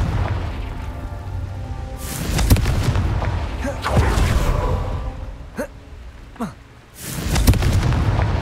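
In Hogwarts Legacy on PC, the fiery Confringo blast spell goes off during a Merlin Trial, with three loud booming bursts, each rolling out over a low rumble of game ambience.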